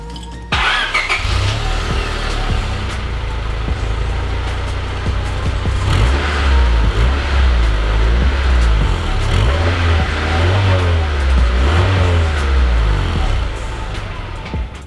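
Honda Civic EK coupe on its stock exhaust, idling then revving repeatedly outdoors, with a steady low rumble that swells into several rising and falling throttle blips close by, alone without talk.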